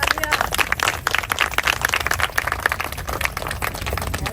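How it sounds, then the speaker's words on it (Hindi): Audience clapping at an International Women's Day celebration, a dense, steady patter of many hands that stays loud and fairly even throughout. "तो उसके लिए भी जोरदार तालियां"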